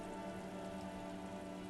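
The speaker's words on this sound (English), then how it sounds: "Rain falls down on the world." Steady rain falls on surfaces in the video game Disco Elysium, a dense continuous patter with a faint tonal hum beneath, no voices.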